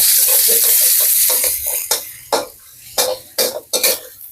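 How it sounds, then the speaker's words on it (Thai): Chili and garlic stir-fried in hot oil in a pan: a steady sizzle breaks into irregular bursts of loud hissing as a utensil scrapes and tosses the mixture, close by, with no voices. "ผัดหอมเลยครับ"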